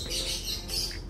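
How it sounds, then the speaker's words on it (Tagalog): A bird chirping briefly near the microphone, a few soft high tweets over faint background noise. "Ito yung ibon natin na bumalik."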